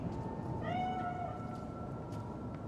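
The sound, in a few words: cat meowing in video game Cyberpunk 2077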